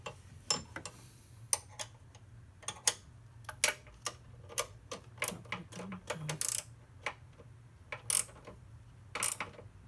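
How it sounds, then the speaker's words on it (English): A wrench ratchets and clicks while a strut bar bolt is tightened on an ND Miata during a GWR front strut bar install, with sharp irregular metallic ticks close up and no talking. "So I need to tighten that down."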